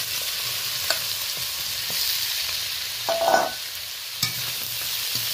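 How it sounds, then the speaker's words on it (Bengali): Small shrimp frying and being stirred in a pan with tempering spices, a steady close sizzle with a few scraping stirs and clinks, no talking. "ফোড়নের সাথে চিংড়ি মাছটা বেশ নাড়াচাড়া করে নিয়েছি, দেখে নিচ্ছি, আপনারা বুঝতে পারছেন বেশ ভাজা ভাজা হয়ে গেছে।"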